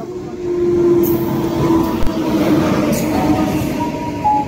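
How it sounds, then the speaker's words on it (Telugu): Train pulling into a station platform on a temple trip, a steady low rumble and rolling hum with faint squeals and a brief clank, fairly loud and continuous throughout. "ఇగో మన ట్రైన్ అయితే వచ్చింది."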